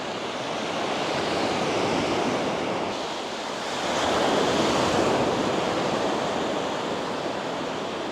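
Ocean waves washing onto a beach on the Pembrokeshire coast of Wales, a steady broadband roar of surf swelling and easing, with some wind noise across the microphone and no voices.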